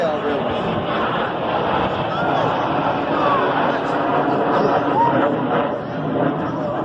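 Red Arrows display jets roar overhead in a sustained, loud drone above a crowd at an air show, while a commentator talks over the engine noise.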